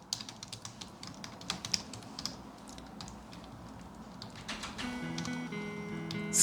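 Fingers type into a text field on a computer keyboard, a steady run of quick light key clicks, fairly close and moderately quiet, with no talking.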